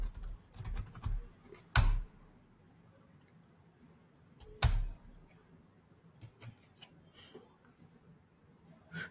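Someone types random text on a computer keyboard, producing sparse, close key clicks in short irregular bursts with a couple of louder thumps, over quiet room tone.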